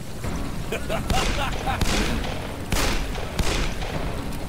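Gunfire in the Western shooter game Call of Juarez: Bound in Blood, several loud booming shots and bursts spaced about a second apart over a constant noisy background rumble.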